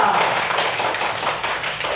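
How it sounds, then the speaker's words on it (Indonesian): Pupils in a classroom applaud a classmate, a dense, steady patter of many hands clapping close by for a couple of seconds. "tepuk tangan untuk Kadek Oka"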